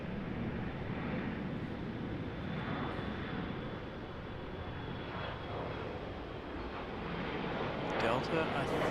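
An airliner departing Raleigh-Durham airport, its engine roar a steady, broad rumble at moderate distance that holds throughout, swelling slightly near the end.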